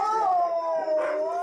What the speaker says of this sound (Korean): 어김없이 이어지는 하울링 오케스트라.